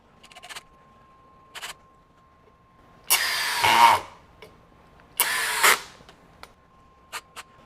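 Masterforce 20V brushless compact 1/2-inch hammer drill driving a 2-inch drywall screw: two sustained whirring bursts of about a second each, close and loud, separated by quiet with a few faint clicks.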